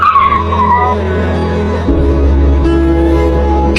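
A motorbike skids with a long tire screech over a loud engine roar, a sharp shift partway through as the motor surges.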